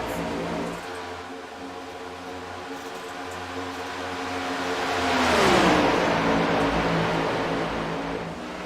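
Race cars on the Atlanta track, engines droning steadily before one car swells closer and passes with a rising then falling roar, fading out.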